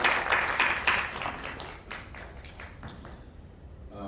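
An audience at a seminar gives a round of hand applause for an arriving official, a brisk burst of clapping that starts loud and thins out steadily over about four seconds in an indoor hall.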